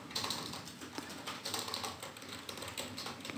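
Someone types code on a computer keyboard, giving a quick, continuous patter of soft close keystrokes with an uneven rhythm.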